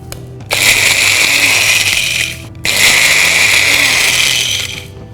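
A kitchen grinder coarsely crushes roasted coriander and dried red chillies in two loud, whirring bursts of about two seconds each, separated by a short stop. The grinding is close and harsh, with the hard spices rattling inside the jar.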